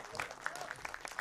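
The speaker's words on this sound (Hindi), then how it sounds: "ऑन स्टेज, जोरदार तालियां।" Loud applause at a film music launch, a dense crowd clapping steadily with sharp individual claps standing out through a short burst.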